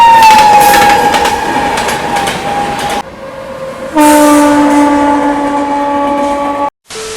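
Garib Rath Express train at Muzaffarpur railway station: loud, steady rumble of passenger coaches with sustained horn-like tones, a brief break, then another long horn blast over the rolling train noise.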